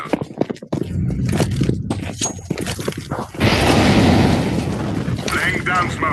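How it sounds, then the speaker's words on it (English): In Counter-Strike: Global Offensive, a molotov fire grenade lands amid gunfire and scraping game noise, then bursts into a loud, sustained whooshing roar of flames, with voices speaking in the mix. "Throwing fire."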